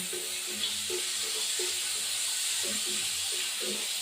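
Tomato frying in hot oil in a pan alongside potato and drumstick for a tengra fish curry makes a soft, steady hiss, fairly faint and even throughout, with a few low muffled knocks beneath.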